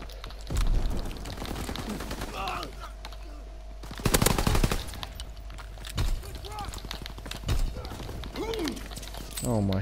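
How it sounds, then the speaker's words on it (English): Assault rifle fire in Call of Duty WWII multiplayer: repeated automatic bursts and single shots rattle at varying distances, with a heavy close burst near the middle, as a player talks over the fighting. "They're using assault rifles."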